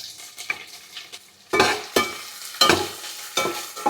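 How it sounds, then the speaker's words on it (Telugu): Sliced onions fry in a pan for a coconut milk rice dish, the low sizzle punctuated by loud bursts of stirring and scraping with a spatula, close and without speech. "ఇప్పుడు ఈ ఆనియన్స్ బ్రౌన్గా అయ్యేంత వరకు ఫ్రై చేసుకోవాలండి."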